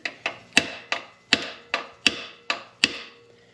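A drift struck with a hammer to loosen the castle nut on a 1989 Yamaha TW200 motorcycle, about eight sharp ringing metallic blows at a steady, even pace, close and alone.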